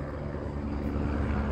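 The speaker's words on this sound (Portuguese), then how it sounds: "Tem helicóptero, veio pra pegar as pessoas" A helicopter arriving at a highway crash site on the MGC-122 near Porteirinha and Mato Verde, heard as a steady, continuous rotor and engine drone with low rumble that slowly swells louder across the whole stretch, with no talk.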